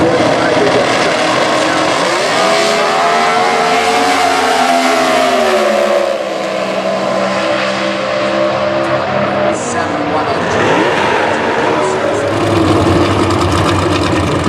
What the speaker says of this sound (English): Dragster Automatic for John Keelers. That's basically a pro stock motor sitting behind him.